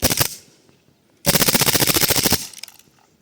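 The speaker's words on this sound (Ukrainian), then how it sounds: "Знімаємо затримки і вмикаємо вогонь чергами. І стріляємо." An airsoft gun fires a very short burst, pauses, then lets off a longer rapid, evenly pulsed burst, loud and close, with no talking.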